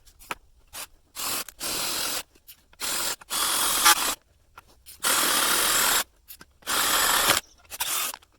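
A Milwaukee Shockwave 10mm drill bit bores a hole for a wind turbine tower guide-wire bracket, running in six or seven loud bursts of grinding whine separated by short pauses, close and with no talk.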